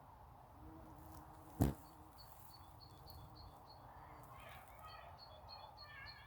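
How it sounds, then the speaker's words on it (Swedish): Small birds chirp faintly in a spring garden, with short repeated calls clustering in the second half over a quiet outdoor hush and one soft thump early on. "Fåglarna kvittrar."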